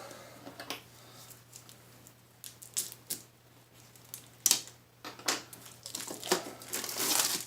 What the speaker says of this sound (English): Feverishly ripping off plastic as it's been in the weights for a little bit